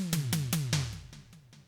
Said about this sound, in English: An excellent Simmons drum emulation